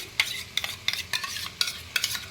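A spoon scrapes and stirs through mutton masala with whisked yogurt in a frying pan, giving repeated quick strokes over a low sizzle, close and fairly loud, with no speech.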